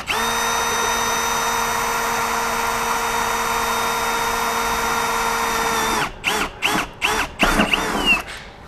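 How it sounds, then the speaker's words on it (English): Cordless power drill boring a bolt hole while fitting a tire carrier on a Lexus GX470, a loud steady whine held for several seconds, then a series of short stuttering trigger bursts. "then you can drill the other side"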